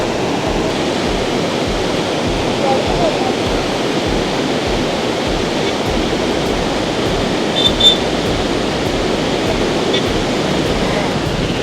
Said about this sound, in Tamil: கடுமையான வெள்ளம் மாயனூர் டேம்ல பாரு, எப்படி தண்ணி போய்கிட்டு இருக்கு